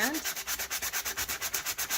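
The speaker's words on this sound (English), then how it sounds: "just add some more sanding to it" Rapid rhythmic scratching of sandpaper rubbed back and forth, close up, in even strokes with no talking.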